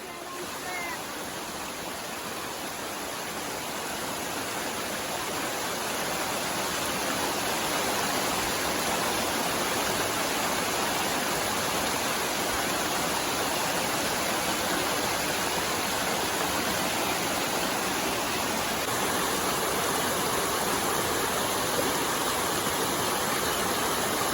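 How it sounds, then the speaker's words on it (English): A waterfall in Rocky Mountain National Park roars as a dense, continuous rush of water, loud and close, holding steady for the whole stretch. "So we're gonna go down the waterfall."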